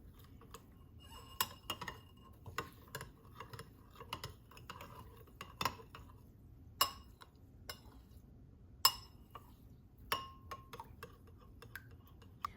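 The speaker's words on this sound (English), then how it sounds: "I'm just going to stir it up" A spoon stirring a drink in a glass, giving a string of light, irregular clinks and ticks against the glass at close range, with no talking.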